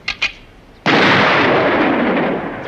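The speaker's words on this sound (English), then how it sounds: "Winchester. 300 Magnum, 180 grains." A single loud rifle shot from a Winchester .300 Magnum firing 180-grain rounds at an outdoor shooting range: a sharp crack followed by a long, rolling decay, with a few faint clicks just before.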